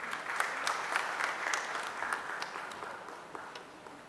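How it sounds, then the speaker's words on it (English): Moderate audience applause at an industrial launch event for a metal 3D printing machine, a steady field of clapping with a few sharper claps, slowly tapering off. "Jagannath sir, please welcome with a round of applause."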